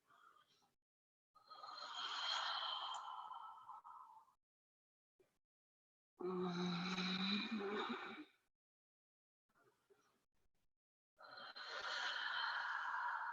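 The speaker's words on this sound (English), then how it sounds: "Take some nice deep breaths here." Slow, deep breathing during a hatha yoga stretch, heard as three long, drawn-out breaths spaced by short silences, close and quiet with no talking.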